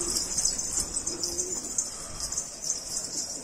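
A flock of valuable pigeons in a rooftop coop, soft cooing and rustling wing flaps close by over a steady bright hiss, no voices.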